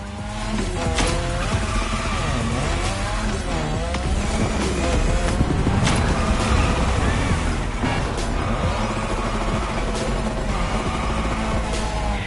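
A car drifts around a drift track in the video game The Crew Motorfest, its engine roaring steadily with screeching, sliding tires over dense game music and effects throughout.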